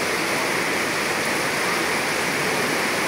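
Overflowing streams on both sides rushing during heavy rain in a flood, a loud, steady, close roar of churning water with no break and no voices.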